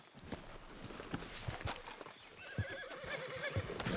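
A horse in the game Red Dead Redemption 2 whinnies with a rising, wavering neigh, while hooves clop in an uneven rhythm close by. No one speaks.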